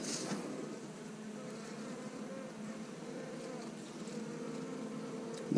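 Honey bees buzz steadily inside an open hive beside queen cells, a close, dense, continuous drone that holds at an even level throughout.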